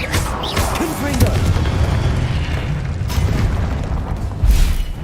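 A Confringo fire spell from Hogwarts Legacy on PC bursts in a loud, dense explosive boom amid continuous game combat noise, with a second heavy blast near the end; a voice calls out over the action.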